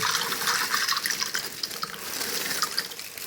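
Water poured into a bowl of chickpeas to soak them in a home kitchen, a steady splashing stream with hissy texture, moderately close and alone.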